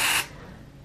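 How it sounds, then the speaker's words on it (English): A lemon basil room spray, meant mostly for the bathroom, gives one short, loud hissing burst that stops sharply and leaves quiet room tone. "we have this like room spray. It's lemon basil."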